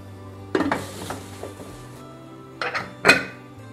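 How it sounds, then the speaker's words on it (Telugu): A pressure cooker holding pav bhaji vegetables and water is shut, giving a few sharp metallic clanks and a clattering rattle of the lid fitting into place, close by in a quiet kitchen. "ఇప్పుడు మనం కుక్కర్ని క్లోజ్ చేద్దాం."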